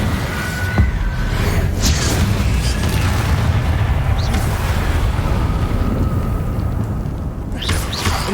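Incendio fire spell cast in Hogwarts Legacy on PS5: a loud, continuous roaring rush of flame with booming low rumble, steady throughout, with brief sharper flares near the start and end.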